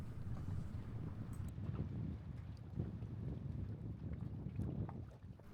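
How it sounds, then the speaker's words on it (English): Steady wind rumbles and buffets across the microphone outdoors by a lake dock on the Gale Woods Farm Lake Trail in Minnetrista, Minnesota, with faint water lapping beneath it and no voices. "It was a windy day, which made it a little chilly"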